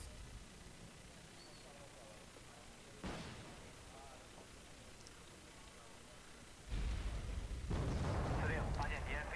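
Artillery fire booms in the real-time strategy game Wargame: Red Dragon, with a sharp blast around the three-second mark and a heavier, rumbling barrage near the end, set against a low noisy background.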